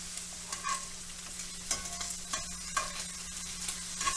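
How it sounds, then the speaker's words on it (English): Onions and bacon frying together in a pan over medium-high heat give a steady, moderately quiet sizzle, with occasional stirring scrapes and small crackles, and no voices. "My onions should cook for 8 to 10 minutes, about as long as the bacon"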